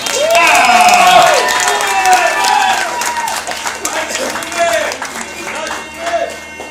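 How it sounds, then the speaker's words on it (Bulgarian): Guests at a 2014 wedding in Vidin, Bulgaria, applauding the best man, a lively burst of clapping and crowd cheering with voices calling out over it, fading somewhat toward the end. "Аплодисменти за кума!"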